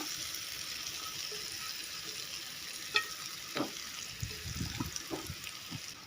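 Dry nungel fish frying in coconut oil, a soft steady sizzle with faint stirring clinks and scrapes, quiet and close.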